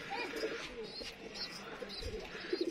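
A pair of Lakha pigeons coo softly in low, rolling calls, close by and quiet, with faint background noise and a voice murmuring underneath.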